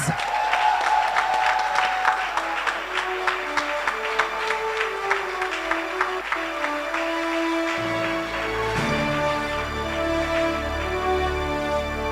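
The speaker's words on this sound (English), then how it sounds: "Let's just give them a hand of applause as we prepare" An audience at a US Embassy event in Tanzania claps steadily, the applause running throughout while music with sustained tones and a bass line comes in partway.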